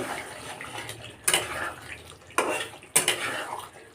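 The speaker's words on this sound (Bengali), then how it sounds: "ভালো করে নাড়ব।" Fried pointed gourd being stirred into masala in a kadai, three sharp metallic scraping strokes against a quiet kitchen background.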